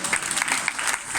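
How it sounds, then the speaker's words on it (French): A church congregation claps for the young people, a brief burst of dense, lively hand clapping with no talking. "allez, on applaudit les jeunes"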